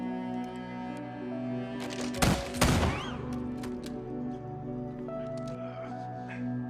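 Gunfire during a bar shootout in a film, a couple of sharp loud bursts in the middle over a droning background score.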